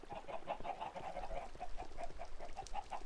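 Chickens in a Minecraft chicken farm cluck in a dense, steady chorus of short repeated calls, close and continuous throughout.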